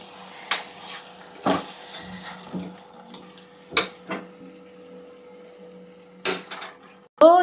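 A metal cooking pot being swapped in a home kitchen while making chicken biryani: scattered clanks and scraping knocks of metal on metal at varied intervals, with a faint steady hum underneath.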